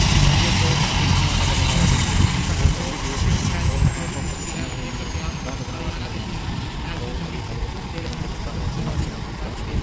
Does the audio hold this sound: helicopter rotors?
yes